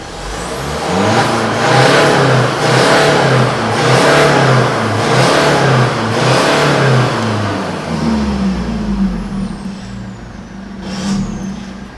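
Engine fitted with its stock factory exhaust, revved repeatedly in a steady rhythm of about five rising and falling pulses, loud and close, then settling into a smoother idle with a short hiss near the end.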